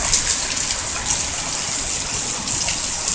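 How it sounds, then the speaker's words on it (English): Rainwater runs and gushes down a driveway in a thunderstorm in Roxboro, North Carolina, carrying dirt along; a steady, close, broadband wash of water and rain fills the whole stretch without a break. "there's water going down the driveway. And it's washing the dirt right on out"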